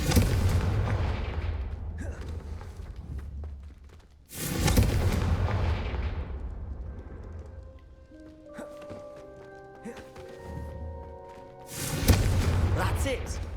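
Confringo fire spell explosions in Hogwarts Legacy go off as several heavy, booming blasts spaced across the stretch, with quieter rumbling and game sounds between them and voices in the background.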